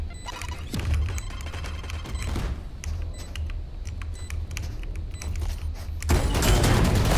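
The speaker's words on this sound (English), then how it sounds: "I'm just gonna shoot them." Sharp video game gunshots crack in a rapid, uneven series, close and punchy, with mechanical clicks between shots and a louder noisy burst near the end.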